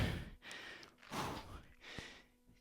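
Sharp, forceful exhales puff out during a full-body push workout, a few breathy bursts close to the mic spaced about a second apart, over a faint music bed.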